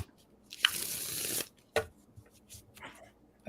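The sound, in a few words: shuffling a deck of tarot cards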